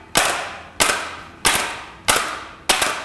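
A chocolate-filled mould for caramel-centred chocolates is banged on a hard surface five times at an even pace, each sharp nearby knock followed by a short decaying rattle.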